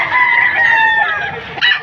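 At a chicken market in Padre Garcia, Batangas, a rooster crows loudly and close by in one drawn-out call, followed by a short clucking burst near the end.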